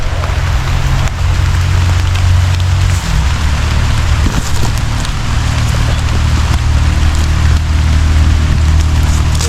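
Heavy rain pours steadily on a countryside lanzones farm in the Philippines during harvest season, a loud, dense, unbroken wash of noise from start to finish with no voices.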